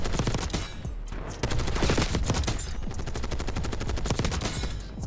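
An XMG in Black Ops 6 fires rapidly and continuously, a tight stream of sharp, evenly spaced shots close and loud throughout with no gaps.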